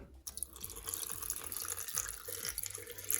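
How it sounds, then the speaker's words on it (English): Water is poured into a blender jar while ginger beer is being made, a soft running and splashing trickle close by that goes on for a few seconds. "I'm gonna add a little bit of water."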